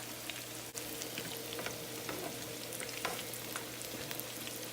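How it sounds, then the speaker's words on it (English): Vegan fried chicken pieces sizzle and crackle steadily in hot oil, a dense, continuous frying hiss with scattered sharp pops throughout. "So there it goes. It's frying."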